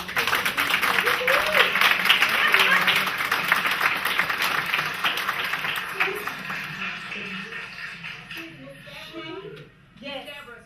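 An audience claps in applause at a talk, a dense wash of hand claps that holds strong for several seconds before thinning and fading out, followed by a few scattered sounds.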